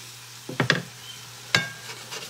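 Spaghetti with tomato stirred and fried in a pan, a quiet hum broken by a short burst of scraping and sizzling, then one more sharp stir a moment later.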